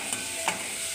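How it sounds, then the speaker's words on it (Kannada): Onions fry gently in a pan over a gas flame on simmer, giving a soft, constant sizzle with a couple of brief stirring scrapes. "ಈಗ ಆನಿಯನ್ ತುಂಬ ಚೆನ್ನಾಗಿ ಫ್ರೈ ಆಗಬೇಕು."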